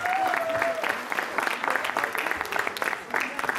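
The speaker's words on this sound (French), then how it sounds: "c'est avec l'applaudissement du public que vous allez pouvoir vous éveiller" Applause from an audience at a charity telethon hypnosis show, waking the hypnotised participants: a dense, steady burst of clapping lasting several seconds with a brief tone at the start, crowd noise mixed in.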